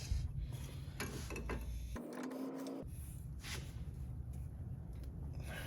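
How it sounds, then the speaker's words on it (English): Adjustable wrench tightening the lock nut on a car's inner tie rod end, faint metallic clicks and scraping against a steady background hum. "the last thing we need to do is tighten this nut here to lock it"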